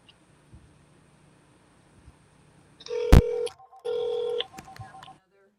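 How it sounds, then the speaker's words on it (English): Telephone keypad tones beep in a short sequence, loud and close, with a few soft clicks and faint background hiss around them. "I'm going to dial you up again."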